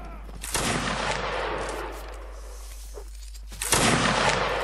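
Musket volleys from the rear ranks of a Leib Guard Semyonovsky Regiment reenactment drill, a ragged burst of outdoor gunfire with a long rumbling echo, then a second loud volley a few seconds later, heard against steady background hum.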